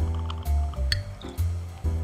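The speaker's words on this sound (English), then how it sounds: "We're gonna pour it over ice in a highball" Olive juice poured over ice in a highball glass gives wet, splashy pours and drips with clinking ice, several short bursts close up with brief pauses between them.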